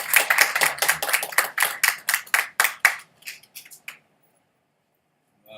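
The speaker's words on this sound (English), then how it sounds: "Round of applause for him." A round of applause at a Sunday programme in an ISKCON temple in Coventry, with brisk, close clapping from a small group for about three seconds, thinning to a few scattered claps before falling silent.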